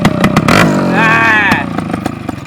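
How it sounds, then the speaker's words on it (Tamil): A TVS 50 moped engine with a modified silencer revs hard with a raspy exhaust, pitch climbing and dropping in short bursts close by. "இதான் சூப்பர் பைக் சவுண்டு"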